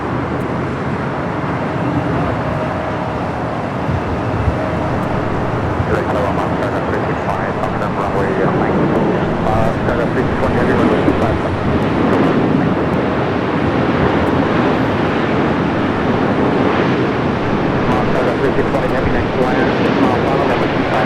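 An Emirates Airbus A380 on short final for runway 24R at LAX produces a broad, steady jet roar under continuous airport noise, while a voice talks over it throughout.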